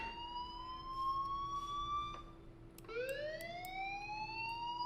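Fire alarm ringing inside a school in the video game Life is Strange: a steady electronic tone that holds, then drops and sweeps back up, continuous and moderately loud over low background hiss.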